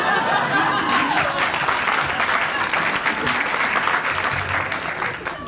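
An audience bursts into sustained applause for Chief Judge Rowan D. Wilson, a loud wash of clapping with a few scattered voices and chuckles, fading slightly toward the end.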